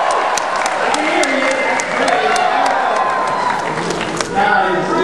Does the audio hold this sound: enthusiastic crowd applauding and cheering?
yes